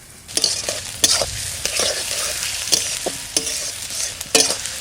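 Onion sautés in a hot pan with a continuous crackling sizzle, punctuated by regular sharp scrapes and taps of a spatula stirring, close and moderately loud.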